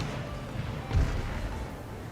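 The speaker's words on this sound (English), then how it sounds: "Looks like they got mortars of their own" Mortar fire in a video game: a single dull, low boom lands near the middle, rising out of a steady rumbling battle bed and fading back into it.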